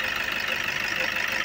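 Toyota Hilux diesel engine running steadily at idle, a continuous close mechanical drone with a constant even texture throughout and no voices.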